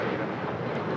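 A United Boeing 737 MAX 9 departing LAX produces a loud, continuous jet engine roar, broad and rumbling, with no break across the short stretch.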